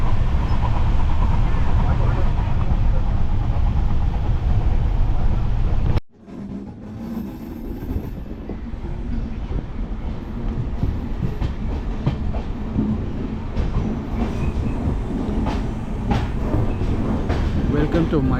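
Wodeyar Express train running on rails between Bengaluru and Mysuru, heard from inside a second-class seating coach as a steady loud rumble with clickety-clack, briefly cut off then resuming with faint voices in the carriage.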